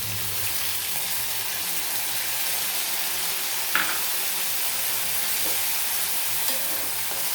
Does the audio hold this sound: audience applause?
no